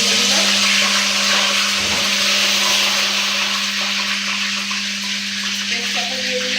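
Whole garam masala spices and bay leaves frying in hot oil while cooking duck curry, giving a steady, loud, continuous sizzle with a low steady hum underneath throughout.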